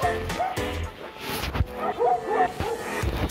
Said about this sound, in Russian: А, собака, привет!